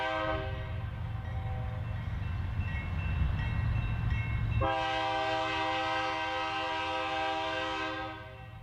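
A BNSF double-stack freight train on the Cherokee Subdivision in Missouri rolls steadily past, a long loud horn blast sounding over the continuous rumble of the cars.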